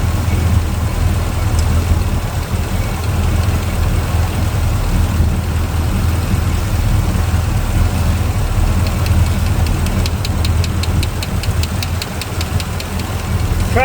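A small block Chevy V8 idles just after a rocker arm valve lash adjustment, a loud, steady low rumble with an even mechanical tick running through it and faint light clicks near the end.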